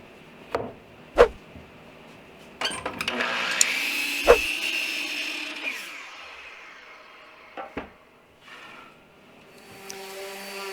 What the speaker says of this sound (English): So I'm going to start off by cutting my 2x6s, and this is for the tabletop